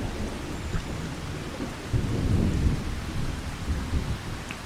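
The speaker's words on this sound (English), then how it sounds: "It's probably not real enjoyable to fish in the rain," Rain and thunder in the video game Farming Simulator 25: a steady hiss of rainfall with low rolling thunder rumbles swelling midway, continuous and fairly loud, no one speaking.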